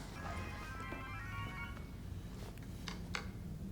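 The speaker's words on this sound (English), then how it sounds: "Everybody's ringtones are on." Faint phone ringtones chirp and warble in a quiet room, a few short electronic tones repeating over a low background hum.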